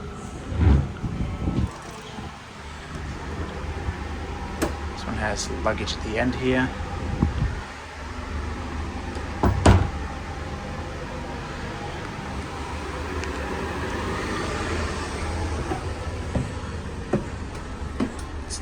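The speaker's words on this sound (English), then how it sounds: "So we're in our motor car now, the last carriage of this train" Inside the motor car at the rear of a Sydney Comeng V set electric train on the move, a steady broadband rumble and whir of running gear with occasional clunks and brief louder swells, while someone talks briefly early on.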